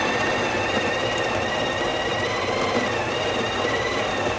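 Breville espresso machine grinding coffee beans, a steady loud mechanical whir with a bright whine held for the whole stretch, close and without talk.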